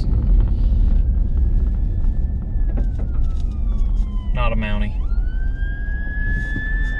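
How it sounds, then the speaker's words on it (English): Ambulance siren wailing as it passes along a road through traffic, its rising and falling tone bending in pitch as it goes by, heard from inside a vehicle amid wind and road noise while a person speaks briefly. "Oh, it's an ambulance."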